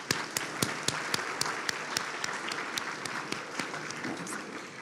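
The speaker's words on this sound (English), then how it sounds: "let's give them a round of applause" Guests at a dinner gala applaud the catering staff. The sound is a faint, fairly sparse patter of individual claps with distinct sharp hits, heard from a distance and lasting about five seconds.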